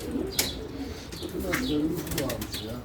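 Pigeons in a coop coo in low, rolling phrases nearby, with occasional wing flutters and sharp chirps, and a voice briefly mixed in.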